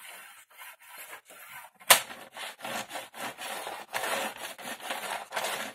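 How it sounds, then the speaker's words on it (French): A paper trimmer cutting and tearing a draft sheet of paper, heard as a series of close, rhythmic scraping and rasping strokes with one sharp snap early on. "Le massicot me détruit le papier."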